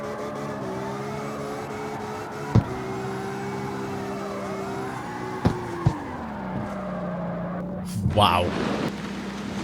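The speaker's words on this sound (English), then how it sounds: "This is spinning its wheels forever." A full prototype drift car in CarX Street spins its wheels, a loud steady engine drone whose pitch bends and wavers, with a few sharp knocks and a brief spoken exclamation near the end.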